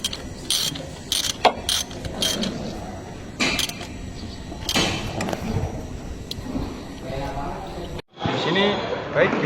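Ratchet wrench tightening a bolt during a basic hand-tools demonstration, giving quick repeated clicks mixed with a speaking voice, ending in a brief louder rattling burst.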